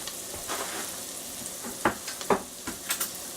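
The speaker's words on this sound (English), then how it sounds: "what I have here is some onions frying with butter in a pan, deep saucepan" Steady sizzling of onions frying in butter in a deep saucepan, close and fairly quiet, with a few light clicks and scrapes from stirring.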